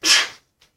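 A single loud, breathy sneeze bursts out close by and fades within half a second, followed by two faint breaths in a quiet room during a mindfulness class.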